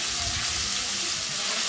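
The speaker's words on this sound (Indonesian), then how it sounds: "Kalau sudah panas, kita mau tumis bumbu sudah tadi kita haluskan" Ground spice paste sautéing in hot oil in a wok, a dense, steady sizzle and crackle filling the whole moment with no pauses, loud and close.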